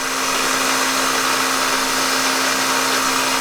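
A milling machine running at 3,800 RPM cutting with a 1/4 inch end mill in a shallow pass, a steady loud whine with a constant high tonal hum and no pauses.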